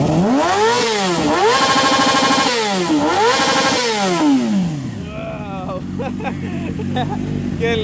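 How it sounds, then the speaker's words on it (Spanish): A sport motorcycle at a club gathering in El Salvador revs hard several times, rising and falling loudly up close, then settles to a rough idle with scattered crowd noise and voices. "Ahorita le van a dar unos aceleros."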